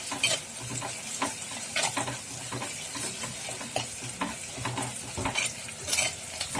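Ingredients sauté in a pan for sardine curry, with a constant moderate sizzle punctuated by frequent rhythmic spatula scrapes and clinks against the pan, close and unaccompanied by talk.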